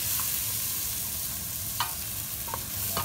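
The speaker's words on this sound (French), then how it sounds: "Et là, on va bien mélanger ça." A spoon stirs ginger, curry powder and oregano frying in a pan for a tamarind sauce, a soft continuous sizzle with a few light scrapes and taps against the pan, close by and without talk.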